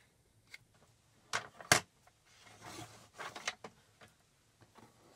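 Faint, close snips of scissors cutting a corner off a paper tag made from letter-size cardstock, a few short crisp cuts with quiet paper rustling between them and no talking.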